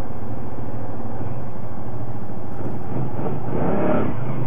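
Honda ATV engine revving outdoors, a loud continuous rough motor drone that climbs and surges near the end, with no talking over it.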